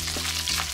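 Bacon frying in a pan for pasta carbonara, a steady close crackle and sizzle running through the whole short moment with no voices.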